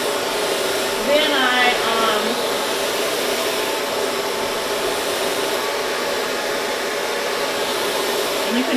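A hair dryer blow-drying short relaxed hair roars steadily and close throughout, a loud constant whoosh with slight shifts in pitch as the airflow moves.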